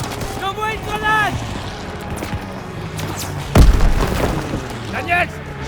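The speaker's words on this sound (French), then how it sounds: "J'envoie une grenade." A grenade detonates in the World War II shooter Call of Duty WWII with one deep, heavy boom midway, under combat noise and shouted voices before and after.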